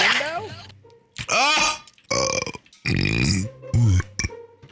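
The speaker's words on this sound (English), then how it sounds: "stop burping" Loud, close burps come one after another, some long and croaking with a pig-like grunting quality, and short pauses fall between them.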